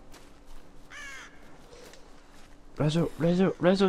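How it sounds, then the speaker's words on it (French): A crow caws once in the Tomb Raider video game, a single harsh call at moderate distance, followed by someone speaking loudly close up. "L'oiseau, ah."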